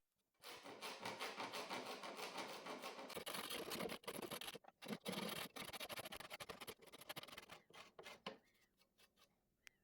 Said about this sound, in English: I'm switching over to the jigsaw, and then I'll clean everything up and smooth it out with files and some sandpaper